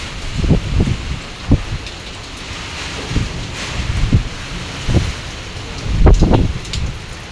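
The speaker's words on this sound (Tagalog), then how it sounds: "Ang lakas naman ng hangin at saka ulan." Heavy rain pours down steadily during a typhoon, with gusts of strong wind and low rumbling bursts rising and falling throughout, loud and close.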